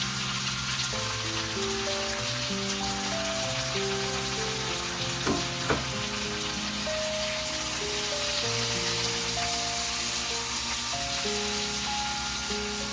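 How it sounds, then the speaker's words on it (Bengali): Fresh onions frying in a pan for a crab curry, a constant crackling sizzle with occasional stirring clicks, running under soft background music. "এবারে পেঁয়াজ ভাজা হচ্ছে, পেঁয়াজটা ভাজা হবে।"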